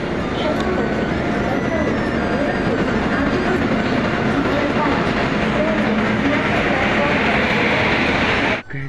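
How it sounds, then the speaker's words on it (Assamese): A train rumbles and clatters into a station, a loud, steady roar throughout, with a murmur of voices mixed in. "ট্ৰেইন আহি গ'ল এতিয়া"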